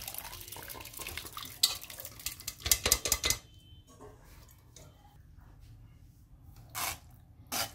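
Cooked lentils tipped through a sieve set over a wok: metal clatter, scraping and wet splashes bunch together in a brief burst, followed by quieter drips and a few isolated clinks and knocks.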